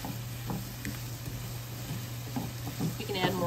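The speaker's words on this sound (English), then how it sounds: "So I'm going to saute these until they are soft, like I said, but with a little bit of bite." Soft sizzle of vegetables sautéing in butter in a pan, a steady close frying hiss with a few light stirring scrapes and a low background hum.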